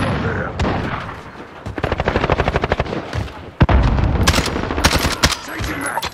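Rapid automatic gunfire in Call of Duty Modern Warfare multiplayer, loud close bursts of shots with a few heavier booms, running in stuttering volleys over a constant rumbling background.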